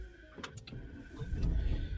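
A Renault Clio GLP 2024 starting by push button: brief clicks and a whir, then the engine catches into a low, rising rumble, close and fairly quiet.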